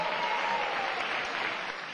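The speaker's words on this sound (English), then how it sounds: "Let's give a big round of applause to all of these 2010 finalists." A crowd applauds the 2010 finalists of the Glendale I Love My Neighborhood poster contest at a meeting: dense, steady clapping from many hands in a room, fairly soft and tapering slightly toward the end.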